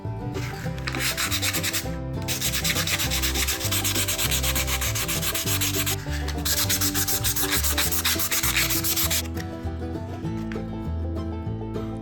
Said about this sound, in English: Let's move up to some 320 grit sandpaper.